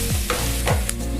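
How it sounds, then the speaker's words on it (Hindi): Fried dried prawns tipped into a pan for methi bhaji, a dense close sizzle with quick scraping stir strokes over a brief moment. "झींगा, तला हुआ झींगा डाल देंगे।"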